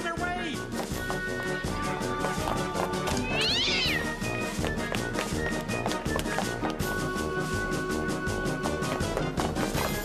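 A cartoon cat meows and yowls repeatedly over a busy, constant animated soundtrack, with drawn-out cries standing out clearly and no talking.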